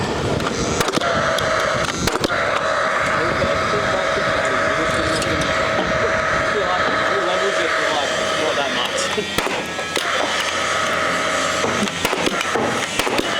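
Pneumatic nail gun firing into a timber roof truss on a house framing job, sharp cracks standing out through steady site noise and a constant background hum.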